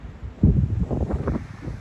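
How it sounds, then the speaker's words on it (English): Strong wind at Lago Nordenskjöld, a lake with whitecaps: a brief, close gusty rumble buffets the microphone in uneven bursts for under two seconds, no talking. "it's very windy."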